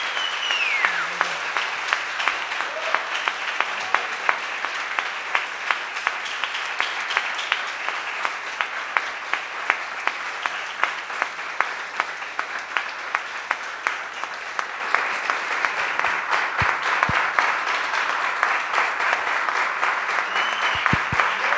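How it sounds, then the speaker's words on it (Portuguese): Theatre audience applauding at length after a talk with a director, dense steady clapping throughout with a few louder individual claps standing out. "Estão te aplaudindo muito."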